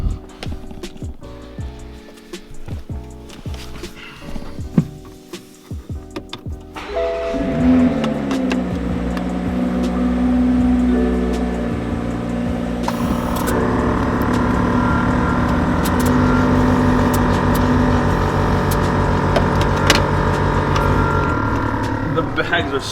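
Air suspension bags on a Toyota Supra inflate with a loud, continuous pneumatic hiss and compressor hum that builds after a quieter stretch of clicks and shop noise, with a voice talking over it.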